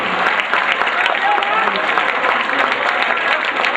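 Dense, steady audience applause fills a 2009 mushaira poetry recital in Wardha, continuous throughout with voices mixed into the clapping.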